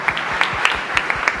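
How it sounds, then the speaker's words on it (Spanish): A church congregation at Sunday Mass gives a short burst of applause, with distinct individual claps standing out over the steady room clapping. "Fuerte aplauso para el Señor."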